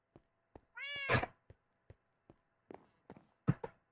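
A single Minecraft cat meows clearly once, with soft tapping footstep-like clicks scattered before and after, otherwise quiet.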